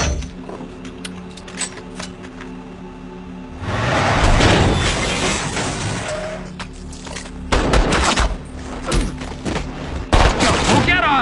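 Rapid bursts of gunfire crackle loudly in several volleys in a Hindi-dubbed scene from the movie Den of Thieves, with quieter stretches of background noise between them.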